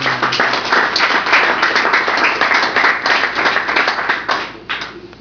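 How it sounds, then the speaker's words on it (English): A round of applause from attendees at a closing meeting, steady, fairly close hand clapping with distinct individual claps that continues evenly and tapers slightly near the end. "So just give yourselves a round of applause"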